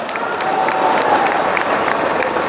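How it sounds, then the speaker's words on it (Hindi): Crowd clapping in welcome at a political rally jalsa at Diamond Lawns in Malegaon, a dense steady patter of many hands filling the short stretch, fairly loud and continuous. "तालियां बजाकर स्वागत कीजिए।"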